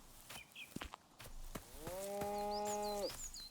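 Cows mooing in a farming video game, one long sustained harmonic moo rising from about the middle of the clip after a few short thumps and scattered shorter bleats, fairly close and clear with no talking.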